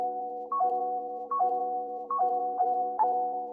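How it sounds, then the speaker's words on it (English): A reversed synth melody drenched in reverb plays for a hard beat, its tones swelling in and cutting off abruptly in a repeating phrase, clean and upfront with nothing else heard. "It's just this melody but reversed."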